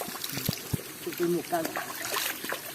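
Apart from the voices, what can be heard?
spring water trickling from a spout in a forest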